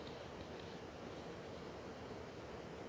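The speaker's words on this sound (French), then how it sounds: "Il y a un petit vent, tu sais, il me touche pas, moi je suis protégé, mais il fait un petit bruit" Gentle outdoor wind making a soft, steady whoosh, an even airy hiss with a faint low rumble, continuous and quiet throughout with no one speaking.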